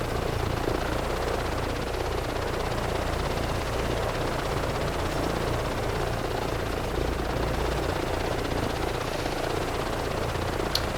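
A helicopter flies over Edinburgh in the flight simulator game MSFS 2024 on PS5, its steady rotor and engine roar continuous and loud throughout, with no talking.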